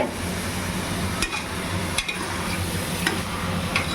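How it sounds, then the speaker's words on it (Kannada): Food frying in a pan with a pinch of turmeric, a continuous close sizzle broken by a few sharp stirring scrapes of a spoon, and no talk. "ಇದೆಷ್ಟೊಂದು 5 ಮಿನಿಟ್ಸ್ ಹಂಗೆ ಸ್ವಲ್ಪ ಚೆನ್ನಾಗಿ ಫ್ರೈ ಆಗುತ್ತೆ."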